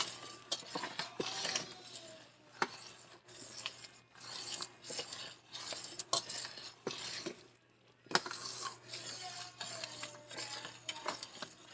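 Strawberry banana habanero jelly with added sugar, stirred constantly in a pot at a vigorous boil: repeated scraping and rasping strokes with occasional clinks of the utensil on the pot, steady and close with no talking.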